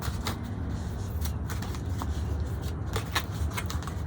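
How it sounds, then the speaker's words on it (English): A large tarot deck is shuffled by hand, giving a continuous soft papery rustle with a few sharper card flicks, close and fairly quiet, with no voice over it. "I think I need to shuffle her."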